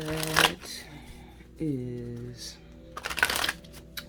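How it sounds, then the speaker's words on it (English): Tarot cards shuffled during a Cancer-sign reading, with two short riffling bursts, near and crisp, at the start and end, while someone talks between them. "pertaining to the pre-shuffle here?"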